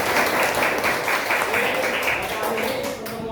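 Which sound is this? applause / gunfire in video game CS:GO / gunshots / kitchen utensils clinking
applause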